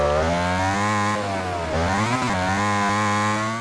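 A Ducati motorcycle engine in a racing video game, revving hard and continuously while the bike holds a wheelie, with a loud buzzing drone whose pitch sags and climbs again through the stretch.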